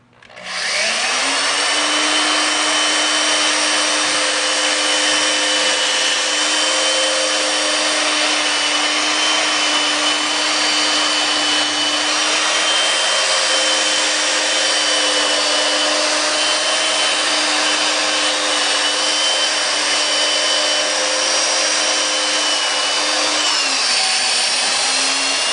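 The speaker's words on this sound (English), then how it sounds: "This is the first sanding pad, the heaviest grit." A 3M power-drill sanding pad runs on a Ford F150 headlight with a steady, close, high whine that spins up at the start, holds evenly for about twenty-five seconds, then winds down.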